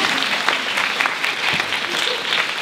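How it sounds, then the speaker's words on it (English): An audience at a talk about viewing the Great American Eclipse gives a brief burst of dense clapping that holds steady throughout. "Let's give him a round of applause."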